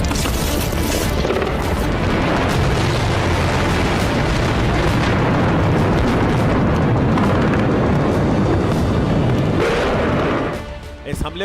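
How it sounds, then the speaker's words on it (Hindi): A Russian Kinzhal ballistic missile strike on Kyiv explodes in a loud, continuous roaring blast that holds steady for about ten seconds before abruptly falling away. "इस हमले को रूसी सेना ने Kinjal ballistic missile Iskander missile से अंजाम दिया है, जिसके चलते कीव में कोहराम मच गया।"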